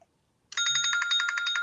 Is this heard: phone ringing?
yes